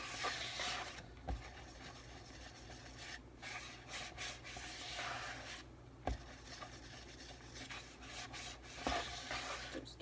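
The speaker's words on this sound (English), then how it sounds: "Make sure to scrape all of the sides to get all that good stuff in there." Brownie batter scraped and stirred in a bowl with a spatula, a steady close rubbing and scraping with a few sharp knocks against the bowl sides, no talking.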